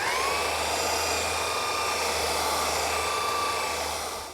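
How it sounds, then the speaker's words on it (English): A belt sander smooths a glued wood panel, giving a loud, steady whine and roar with a constant hum, close and continuous until it starts to fade at the end. "And now I'll smooth it all out with my belt sander."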